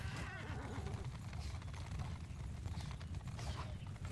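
Cavalry horses gallop in the Bannerlord video game, with a busy, continuous patter of hooves and whinnies under a dense battle din throughout.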